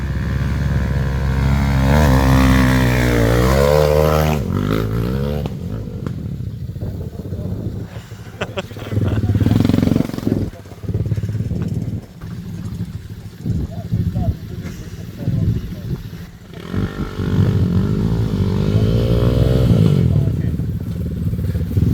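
A motorcycle pulls out on a May spring ride, its engine revving loud and close at first and then rumbling on steadily, with people talking over it throughout.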